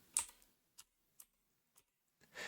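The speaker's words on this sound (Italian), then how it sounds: "Allora andiamo a digitare true." Sparse, faint keystrokes on a computer keyboard as a short word is typed, a few soft isolated clicks spaced apart in a quiet room, with a louder rustle at the start and end.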